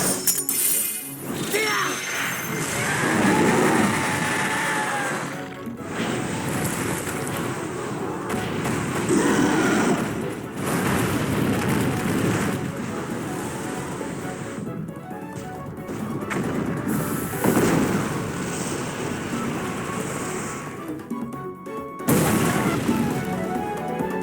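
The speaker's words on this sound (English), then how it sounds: "the extra added steam effects to show that he's hitting even harder" Monster Hunter Stories 2 kinship attack in the video game, with loud crashing impacts, booming explosions and hissing steam bursts in repeated waves, broken by short silent gaps, under game music.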